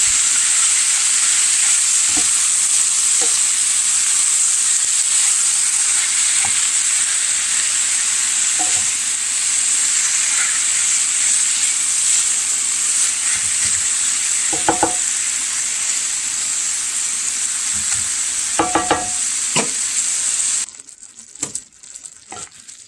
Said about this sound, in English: we got our ground beef in here now, and we're just going to get it browned up along with these onions